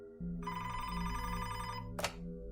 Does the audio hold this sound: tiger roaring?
no